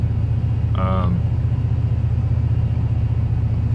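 A 1986 Ford F250 bullnose pickup engine idles steadily while warming up, a close, even low rumble that runs throughout, with a brief voice heard over it.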